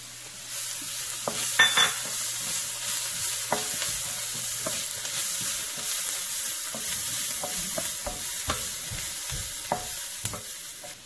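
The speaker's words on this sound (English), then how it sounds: "Now that the vegetables are half cooked, add the soy sauce." Half-cooked vegetables with soy sauce sizzle and fry in a large pan, a steady loud hiss under scattered scraping and clacking of a utensil stirring them, close and continuous.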